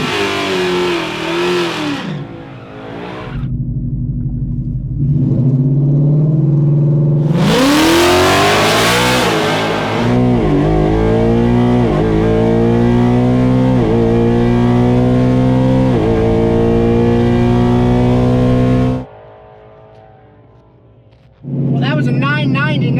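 A naturally aspirated drag race car makes a mid 10-second pass at Mod Nationals, its engine roaring loud and close through rising gear pulls, with a shift break near eight seconds and a sharp cutoff after the run.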